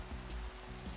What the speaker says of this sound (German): Es regnet jetzt ja.